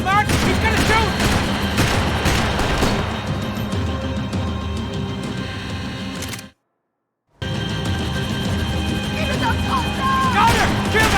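Gunfire bursts out during a chase in the video game Max Payne 3, loud and mixed with shouting voices, engine noise and music, broken by a brief dropout before the action resumes.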